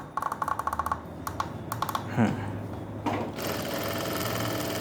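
A sewing machine stitches a hidden stitch on a blouse belt in short rapid bursts, pausing between runs, then running continuously near the end, with someone speaking softly in between.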